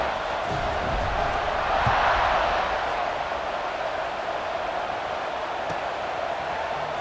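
A football stadium crowd in EA Sports College Football 26 roars steadily as a broad, even wash of noise, swelling slightly early on and holding at a constant level.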